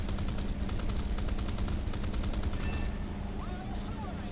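Rapid bursts of 20mm cannon fire from an F4U-1c Corsair in War Thunder simulator battle, a dense rattling stream over steady engine drone that stops near the three-second mark, leaving the engine hum alone.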